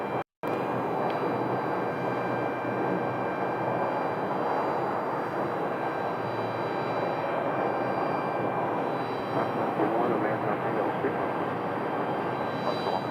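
An airliner is pushed back at Phoenix Sky Harbor Airport, a loud, constant roar of jet engines and ground equipment with a steady whine, sustained without a break throughout.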